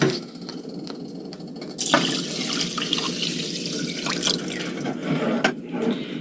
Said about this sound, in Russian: Заливаем 3 стакана воды.